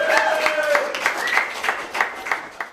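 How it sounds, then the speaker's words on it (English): A roomful of people claps for a speaker's father at a Nike sneaker charity event; the claps are distinct and fairly loud, with a voice briefly heard under the opening moments. "So give a big round of applause to my dad, Mario."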